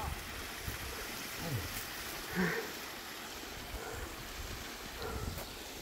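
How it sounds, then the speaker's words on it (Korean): Snowmelt water rushes down small mountain waterfalls in a steady, broad wash of noise, close and continuous, with faint wind in the background. "눈이 녹으니까 물이 많이 내려오지요."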